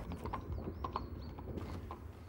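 Faint horse hooves clip-clop in a loose, uneven rhythm at some distance. They sound under a steady outdoor background, with a few creaky tack-like sounds and no speech.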